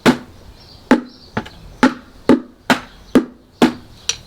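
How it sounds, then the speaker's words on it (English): A bucket is beaten on its side by hand, giving about ten sharp, hollow knocks at an uneven rhythm, close and fairly loud, each with a short ringing decay. "And I bet a it good, sounds different if we beat it on the side."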